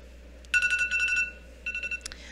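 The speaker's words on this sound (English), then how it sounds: "That's my alarm telling me to call my Sagittarius father." A phone alarm rings loud and near in two short bursts of bright electronic chirping tones separated by a brief pause, heard alone over faint room hiss.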